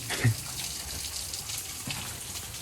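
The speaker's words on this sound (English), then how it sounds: "Not a real nice waterfall, but we checked another one off the list" A small waterfall with only a little water flowing, a close, steady splashing gush that holds even throughout, with a brief louder bump near the start.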